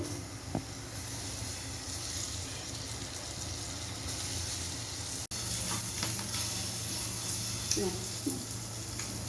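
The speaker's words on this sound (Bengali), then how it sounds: "ডিমটা ভেজে নেব" Egg omelette sizzles and fries steadily in a pan for a home-style curry, a continuous close hiss with a brief break midway, faint talk underneath.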